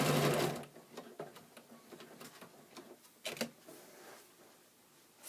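A sewing machine stitches a seam in short bursts, its rapid mechanical ticking starting and stopping close up in a quiet room.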